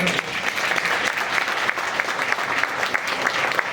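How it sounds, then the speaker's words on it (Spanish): Clapping from an audience at a law conference fills the room, a dense and steady round of applause from many people. "Un aplauso, doctora, para que"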